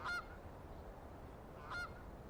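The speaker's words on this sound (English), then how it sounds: "The appearance of the first geese flying north is a sure sign of spring." Wild geese flying north in spring over the taiga give two short honking calls spaced well apart, faint and distant over a quiet background.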